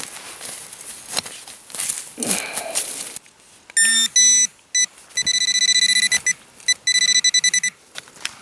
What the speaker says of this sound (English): figured I might as well operate the metal detector while I was at it